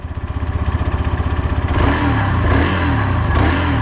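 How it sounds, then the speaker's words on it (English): Motorcycle engine heard up close, rhythmic idle pulses building briefly before a throttle blip lifts into a smoother, louder rev of the exhaust note, with no voices. "That's how it sounds. That's the exhaust note."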